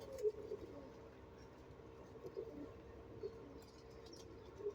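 A pigeon coos softly in a series of low, repeated calls, faint and fairly close, with a few louder bursts of other noise and some talk in the background.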